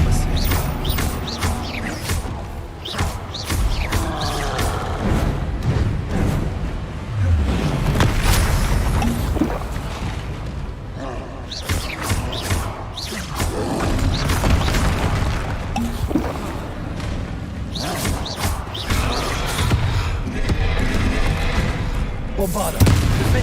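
Bombarda and Confringo spell blasts in Hogwarts Legacy, a dense run of loud booming explosions and crashes across the whole stretch, with shouted spell incantations and battle noise mixed in throughout.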